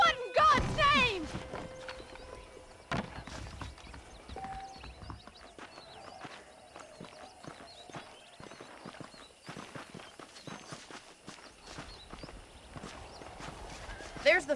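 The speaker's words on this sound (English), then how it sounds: "let's see if you can still ride a horse" Hooves clop steadily through a long stretch of horse riding in the video game Red Dead Redemption, fairly close, with scattered voices and other noise over the rhythm.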